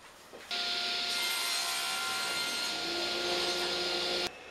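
A handsaw cuts wood to length for a kitchen table frame, one steady run of rasping strokes close by that starts abruptly and stops abruptly after about four seconds.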